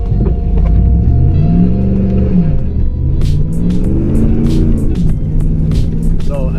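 A 2005 Dodge Dakota SLT V8 pickup, about 4,500 pounds, accelerating hard from a stop sign, with a loud, deep engine roar that climbs and drops through the revs, close up from inside the cab.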